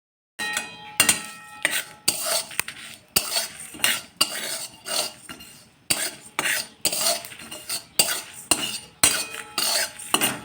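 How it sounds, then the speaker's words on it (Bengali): Dry red chilli and cumin roasting in a pan for phuchka, stirred with a metal utensil in rhythmic bursts of scraping and clinking against the pan, close and loud, light sizzle beneath, no speech. "চলো একটু নেড়ে নিই।"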